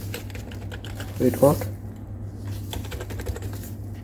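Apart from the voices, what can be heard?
typing on Asus TUF A15 laptop membrane keyboard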